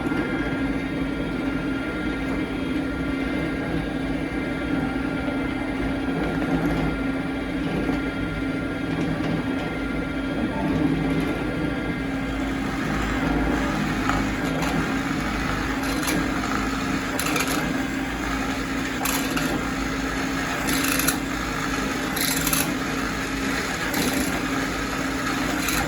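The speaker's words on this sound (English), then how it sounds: "let's drill the next one." A drill steadily bores holes in a crankbait belly weight mold, its motor giving a quiet, constant whine for the whole stretch, with a few short, sharper grinding bursts toward the end.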